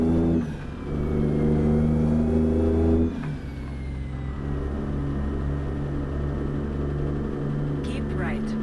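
A Ruda 389 Glider semi in American Truck Simulator, pulling a trailer loaded with 16,000 pounds, revs its engine with a deep steady drone, drops as a gear shifts, then settles into an even, sustained pull while someone talks.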